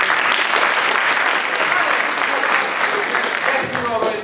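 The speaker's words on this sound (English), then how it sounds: "Nice, round of applause, please." Applause from an audience at a showcase event: sustained, loud, dense clapping that holds steady for several seconds, with a few voices mixed into the crowd.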